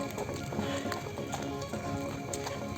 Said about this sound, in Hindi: आप देख सकते हैं पीछे घोड़ा गाड़ी, घोड़ा अपना चारा खा रहा है पीछे